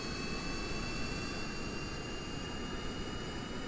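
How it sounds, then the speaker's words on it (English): Spacecraft thrusters firing in a video game: a steady, loud, broadband roar like a jet engine, with a constant whine on top and no talking. "Turn on the thrusters. Throttle up."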